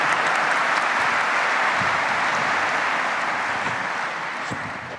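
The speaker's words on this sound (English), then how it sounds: "Let's give a nice round of applause to His Royal Highness Prince Abdulaziz bin Salman and everybody else on the panel." A conference hall audience at an oil and gas industry opening ceremony gives a sustained round of applause for a royal prince and a panel, dense and even, easing slightly toward the end.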